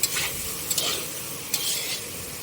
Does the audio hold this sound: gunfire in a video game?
no